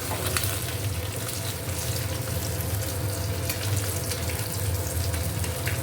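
Fish pieces fry in hot oil, a steady close sizzle and crackle throughout with no voices.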